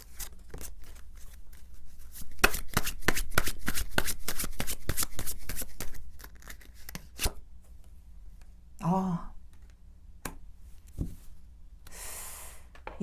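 Tarot cards are shuffled with a rapid run of crisp riffling snaps, then softer slides and single cards drawn, with a brief breathy sound near the end and no talking.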